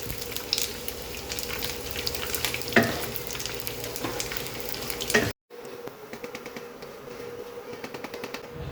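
Anchovies (ikan teri) fry in hot oil with a steady close crackling sizzle and occasional stirring clatter, which cuts out briefly before the frying resumes a little quieter.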